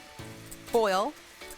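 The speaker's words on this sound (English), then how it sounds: "it starts boiling around the edge like so, and let it just keep boil" Candied chicken wing sauce boils in a pan, a soft, steady bubbling and sizzling hiss running throughout, briefly overlaid by a short voiced sound near the middle.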